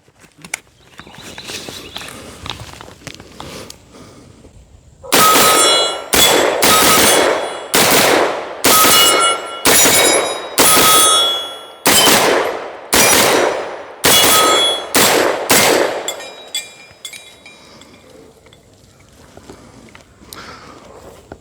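A Palmetto State Armory AR-V 9mm pistol-caliber carbine fires 115-grain ball range ammo in a string of roughly a dozen loud, close shots at a steady, fairly quick pace. Quiet handling noises come before and after.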